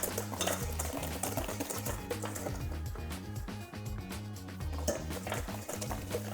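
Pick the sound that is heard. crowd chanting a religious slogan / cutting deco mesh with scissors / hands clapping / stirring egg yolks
stirring egg yolks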